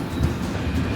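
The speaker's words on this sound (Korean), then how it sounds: "때마침 기차도 왔네요." A train pulls into platform 8 at a railway station in Zagreb, Croatia, giving a steady, loud, low rumble that holds evenly throughout, with no voices.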